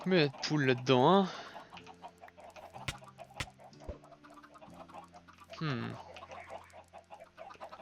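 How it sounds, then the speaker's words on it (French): Minecraft chickens clucking in a farm pen, a few short clucks and squawks over quiet game sounds, with a voice near the start. "Combien il y a de poules là-dedans"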